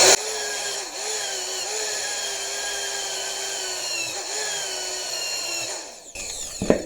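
A power drill set to plain drill mode, not hammer, runs steadily and loudly in a workshop, its whine wavering slightly for about six seconds before winding down with a short clunk at the end.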